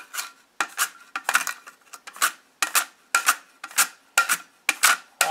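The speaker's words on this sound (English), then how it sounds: "Okay guys, so it's time to slice." Cassava slicing with a very sharp handheld slicer: a steady run of crisp scraping strokes, roughly two per second, each a short bright rasp with brief gaps between, close and clear with no talking.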